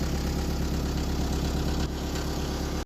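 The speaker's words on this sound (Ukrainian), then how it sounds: "Зацепили фрезу, гріємо трактора, зараз будемо рушатися." A tractor engine idles steadily while warming up with a rotary tiller hitched on, a loud, even low rumble with a faint knock that runs without a break, with no talk.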